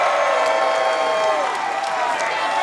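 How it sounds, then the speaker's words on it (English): Wrestling crowd cheering at an NWA event for Knoxville's Country Gentlemen, the new tag team champions, a loud sustained roar of fans with applause mixed in and a voice over it. "You can hear the crowd."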